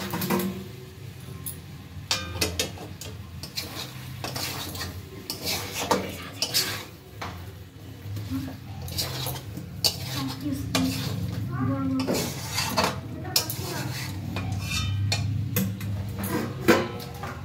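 Meat cooking with spices in a pan, a spoon scraping and clinking against the metal in steady irregular strokes over a low sizzle, close by, with a person speaking over it.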